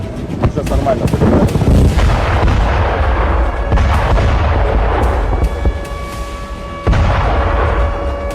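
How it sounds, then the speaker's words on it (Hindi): Nighttime attack on Russia's Krasnodar region, a continuous barrage of loud, deep booms and rumbling blasts rolling one after another, with sharp cracks punctuating the sustained roar. "रात के वक्त आसमान से बरसता ये बारूद जिसने रूस के क्रास्नोदर प्रांत में सनसनी मचा दी।"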